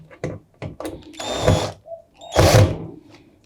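A power drill drives a screw into a Fisher & Paykel washing machine during a seal replacement: a few short clicks, then two loud whirring bursts close by, with a pause between them.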